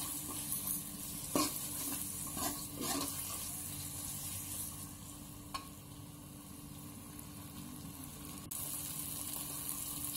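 Ground garlic paste fries and sizzles in a pan, heard up close and soft, with a constant hiss and a few scraping stirs and clinks from a utensil.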